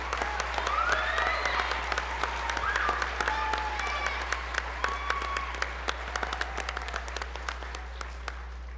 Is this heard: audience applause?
yes